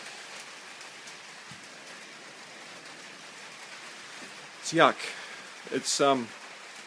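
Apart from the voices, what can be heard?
rain falling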